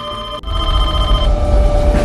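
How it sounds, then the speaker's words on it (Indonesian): A home telephone rings loudly and steadily in a continuous electronic tone after a brief cut, alone with no talking, in a dramatic action film scene. "telepon rumah berdering"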